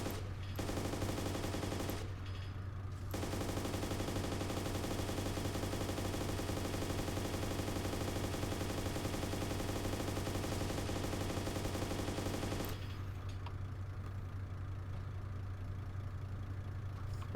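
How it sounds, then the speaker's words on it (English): Sustained machine gun fire in the game ARMA 2 OA, a long continuous rattling burst with a brief gap early on, over a steady low engine hum, moderately quiet, no talking. "can I get him with a machine gun?"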